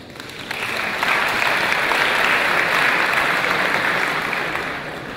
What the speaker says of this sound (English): applause for Vaagn, Toukharian.